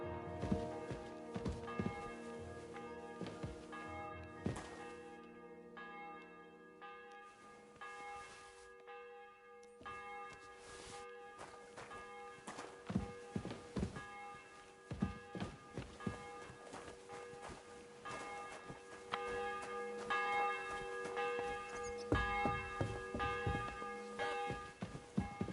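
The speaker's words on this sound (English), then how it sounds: "The bell's ringing for Hans the 5th time." Church bell tolling in the medieval video game Kingdom Come: Deliverance, repeated resonant strikes ringing out with long humming decays, along with soft footsteps and no talking.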